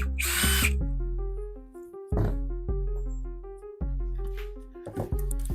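A cordless power drill whines in repeated short bursts as it backs screws out of the base of an old sofa chair, with a rustle and clatter between runs.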